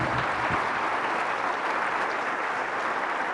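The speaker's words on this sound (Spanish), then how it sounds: "Fuerte el aplauso a la palabra del Señor." A church congregation applauds the word of the Lord during a Spanish-language Catholic sermon, a dense, steady wash of many hands clapping loudly and continuously with no gaps.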